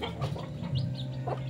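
Chickens clucking nearby, with short, soft calls rising over steady low background rumble. The chickens are native birds kept by a farm keeper.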